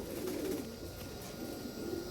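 Full-ring pigeon, a male breeder bird, cooing steadily in a low murmur that runs through the whole short stretch, fairly near with no talk.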